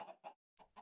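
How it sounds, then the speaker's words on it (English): Chickens in the video game Minecraft clucking softly, four short clucks in two pairs split by a brief pause, faint and close with no other sound. "We gotta do something with our chickens"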